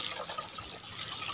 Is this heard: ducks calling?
no